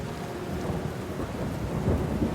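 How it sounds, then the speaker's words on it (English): Steady rain pours down while a deep rumble of thunder rolls underneath, continuous and fairly loud, with no voices. "it started to rain and thunder"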